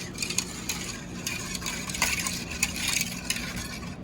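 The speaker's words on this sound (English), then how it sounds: "I'm gonna mix together the sugar, heavy cream, and milk" Sugar, heavy cream and milk being stirred together in a bowl for a bread pudding, a steady close scraping and swishing with light clicks of a utensil against the side, continuous and moderately loud.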